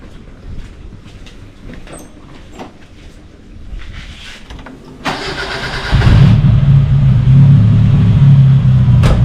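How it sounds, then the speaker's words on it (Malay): A car engine with a fuel pressure regulator issue cranks and catches, then settles into a steady, loud idle with a low rumble, preceded by quieter clicks and cabin noises. "Jom kita start pula kereta ni"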